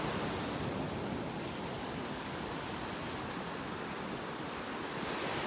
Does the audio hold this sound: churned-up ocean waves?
yes